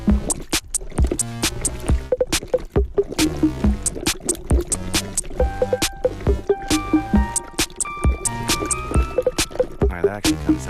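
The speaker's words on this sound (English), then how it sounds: "Does that sound like bubbling lava?" A homemade sound effect meant as bubbling lava for a video game, made like someone blowing bubbles into a water bottle: dense, rapid, irregular bubbling and popping with watery gurgles, fairly loud and continuous throughout.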